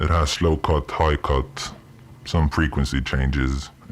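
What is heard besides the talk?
None of the usual background noises is heard.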